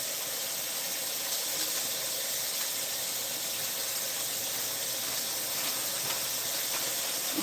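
Cilantro is rinsed under running kitchen tap water, a steady even hiss of flowing water with no breaks, fairly faint throughout.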